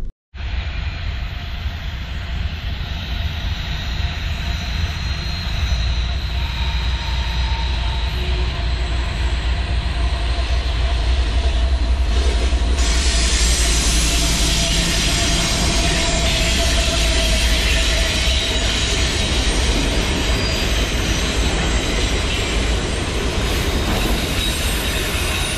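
A train rolls past close by near Hugh Moore Park in Easton, Pennsylvania, a loud continuous rumble of rail cars with wheel squeal and clacking that builds and holds steady for the whole stretch, with no talking.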